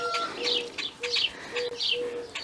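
Agitated backyard birds on a homestead, clucking chickens with repeated squawks and chirps in irregular bursts, fairly close, alongside a few tonal calls and no speech.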